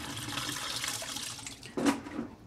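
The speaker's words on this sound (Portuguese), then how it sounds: "Vou tirar a água." Water is drained out of a basin or tub after soaking heavy-duty renovation work trousers, a steady splashing pour with a louder gush near the end, fairly close, with no talking.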